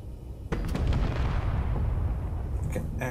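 An RBSA cannon shot destroying a ship in the Space Engineers video game: a sudden heavy boom followed by a long, loud rumbling roar of destruction, with a few sharp crackles near the end.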